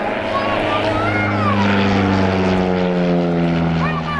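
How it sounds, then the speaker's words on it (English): Early Scottish Aviation Bulldog T Mark 1 propeller trainer at an airshow, its engine droning steadily with a rising and falling propeller whine while a commentator talks over it. "This particular aircraft, very early version of the Bulldog,"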